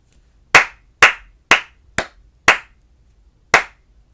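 Six sharp hand claps ring out, five evenly spaced and a last one after a slightly longer pause, close and crisp.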